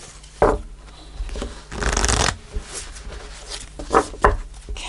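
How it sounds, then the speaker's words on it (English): Tarot reading cards are shuffled close by in short riffling bursts, with one longer continuous shuffle in the middle and quieter soft rubbing between. "Okay, so I'm going to pull a reading card."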